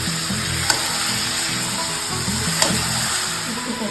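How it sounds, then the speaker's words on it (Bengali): Marinated mutton for a pressure-cooker curry sautés in a pan with a loud, dense, continuous sizzle, close up, with a couple of faint utensil taps. "আগে থেকে ম্যারিনেট করা মাংসটাও আমি ছেড়ে দিলাম। এবার মাংসটাকে একটু কষিয়ে নিতে হবে"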